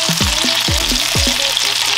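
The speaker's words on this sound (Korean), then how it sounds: "부치는 시간은 딱히 시간은 없고요. 그냥 노릇노릇하게 익혀주시면 됩니다." Shrimp and zucchini pancakes pan-fry for a Korean holiday dish, sizzling loudly and continuously up close, with a few soft scraping stirs as they brown and no speech.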